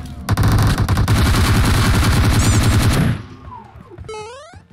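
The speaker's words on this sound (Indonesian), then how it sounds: "Nih yang nembakin dari tadi ya." Sustained automatic gunfire in the mobile battle royale game PUBG Mobile rattles loud and rapid for about three seconds, then cuts off, leaving quieter game effects and a few brief chirps.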